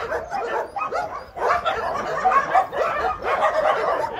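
A pack of about twenty kennel dogs barks and yips in overlapping, busy bursts, with occasional whimpers, at moderate distance and fairly steady loudness.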